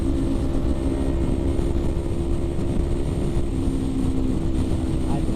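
A Kawasaki Ninja 250R motorcycle being ridden, its engine a steady droning hum under heavy rushing wind noise that holds constant throughout.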